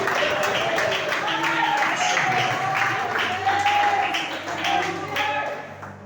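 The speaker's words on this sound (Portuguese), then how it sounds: "E aplaude ao nome do Senhor dos Exércitos" A church congregation at a family worship service claps together in a dense, continuous burst of applause mixed with crowd voices, with a speaking voice carrying over it throughout.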